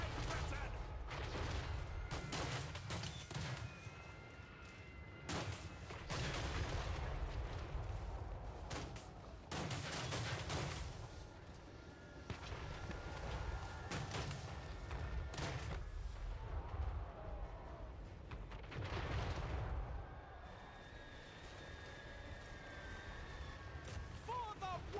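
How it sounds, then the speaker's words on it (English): Strange-sounding guns fire in a Total War: Warhammer III battle, heavy booming volleys and crackling shots in irregular bursts, with a voice talking over the combat at times. "God, those don't sound like normal guns."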